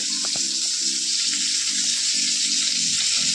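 Green chilies frying in a pan give off a steady bright sizzle, hissing evenly and up close throughout, with a few faint clinks underneath.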